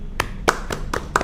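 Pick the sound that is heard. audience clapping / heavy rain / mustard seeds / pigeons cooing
audience clapping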